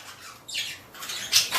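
Pet English budgies squawking in an indoor bird room, a few short harsh calls rising and falling over about a second and a half, the loudest burst near the end, close and fairly clear with no talk.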